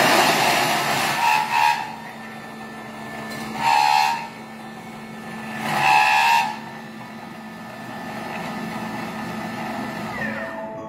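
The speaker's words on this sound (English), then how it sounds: "the lid's going on and it's just going to mix those together now, and round we go to speed" A Thermomix with its lid on mixes potatoes, giving a few short whirring, hissing surges of the motor, each lasting under a second, spaced over a steady low mechanical hum.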